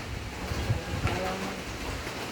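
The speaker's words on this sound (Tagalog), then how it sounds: "Ulan sa labas kasi may bagyo. Ayan oh. Oh, yung hangin oh." Steady, broad rushing wind noise from a typhoon with rain outside fills the whole stretch, buffeting the microphone with a couple of louder gusts.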